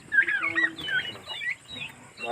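A two-month-old turkey gobbles close by in a loud, warbling burst, followed by a few shorter gobbling calls and soft clucks.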